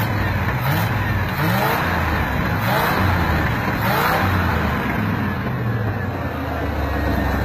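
A truck engine being cleaned of valve deposits with automatic transmission fluid revs loudly and continuously up close, its rough roar surging and easing in waves with no talk over it.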